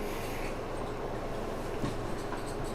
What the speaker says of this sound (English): I'll wait for the train to come around.